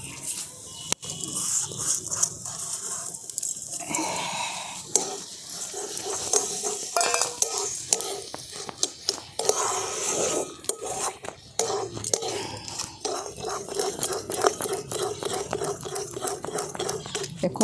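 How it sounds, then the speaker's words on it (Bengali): Peanut powder, milk and sugar being stirred together in a bowl, a steady scraping and tapping of a spoon against the sides with brief pauses, close and continuous throughout. "খুব ভালো করে সমস্ত কিছু আমি একসঙ্গে মিশিয়ে নিচ্ছি।"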